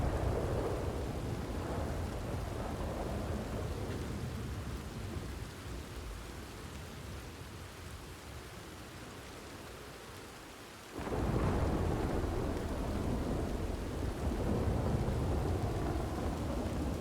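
Steady heavy rain and rumbling thunder in Red Dead Redemption 2, a continuous downpour that thins briefly, then surges back with a sudden loud thunder crack near the end.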